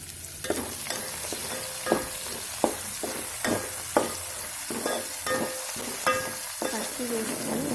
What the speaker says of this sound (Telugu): పసుపు వేసుకొని ఒకసారి మళ్ళీ కలిపేసుకుంటున్నాం.